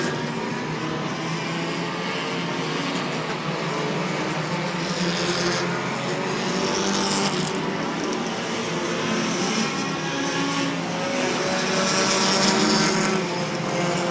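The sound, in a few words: stock cars racing on short track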